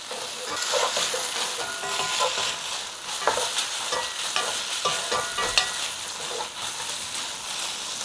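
Chicken spring roll filling being stirred with oyster sauce in a hot pan, a steady sizzle with scraping spoon strokes and soft clatters running throughout, close and fairly loud.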